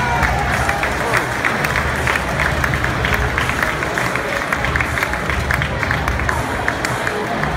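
Stadium crowd at a Sydney football match applauding parachutists descending into the ground, a steady, dense wash of clapping and cheering that runs unbroken and fairly loud throughout.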